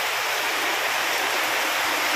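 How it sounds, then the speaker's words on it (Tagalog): Steady, even rain pours down in a dense, continuous hiss with no pauses and no voices. "Tuloy-tuloy pa rin ang ulan niya. Wala pa rin tigil."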